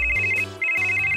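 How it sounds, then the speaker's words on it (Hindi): A mobile phone plays its ringtone in two loud, bright, sustained bursts separated by a short gap, close by and with no voices over it. "रूमी का फोन बज रहा है।"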